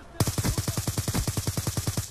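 Rapid automatic gunfire from a Black Ops 2 match, roughly eighteen evenly spaced loud shots in a steady burst lasting about two seconds, close and dominant with no talking.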